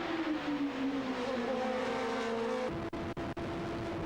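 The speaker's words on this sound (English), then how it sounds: "It comes down to a battle with a Ferrari. Lap after lap, Mark tries to overtake" Race cars battle in a Grand Prix, one of them chasing a Ferrari lap after lap. Engines howl close and loud, their pitch sliding, then the roar is cut by a few sharp gear-shift breaks.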